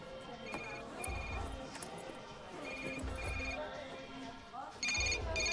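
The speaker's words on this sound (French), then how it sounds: "C'est votre téléphone ou le mien? C'est le mien." A mobile phone rings with a repeating electronic melody in a quiet indoor room, several short tonal bursts spaced across the moment with a louder final burst, and a faint low rumble underneath.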